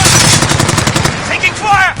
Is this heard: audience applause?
no